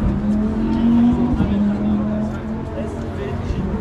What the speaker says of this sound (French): Donc le fameux moteur RS3,